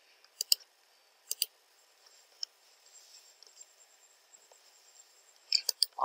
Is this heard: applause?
no